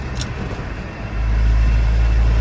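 A 1974 Ford F-250 Ranger SuperCab truck's engine rises into a louder, steady low drone as throttle is applied, pulling strongly at cruising speed with constant road rumble and no talking.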